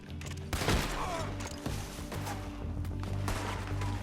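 Gunfire crackles through a Red Dead Redemption 2 shootout, with a sharp burst of shots near the start, then scattered reports and thuds over a steady dense game background.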